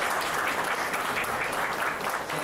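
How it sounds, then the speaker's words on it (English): An audience at a sports psychiatry conference applauds an athlete with steady, dense clapping that holds evenly for a couple of seconds. "Give her a big applause."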